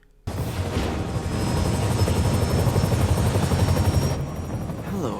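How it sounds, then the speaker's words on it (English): A getaway helicopter in Marvel's Spider-Man game roars in abruptly and holds a loud, steady rotor thrum with a rising whine, close and continuous, no talk. "he begins to give chase to a getaway helicopter"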